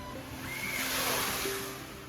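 Broad rushing wash of seawater surging and splashing over a sea wall after a storm at night, swelling to a peak midway and then easing off, with a faint tonal whine in the background.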